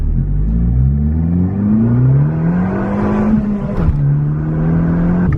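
Fiat Abarth 695 Biposto, a turbocharged 140 kW small hot hatch, revs hard under acceleration; the engine note climbs steadily, dips at a gear change, then keeps pulling in a loud, close, continuous drone.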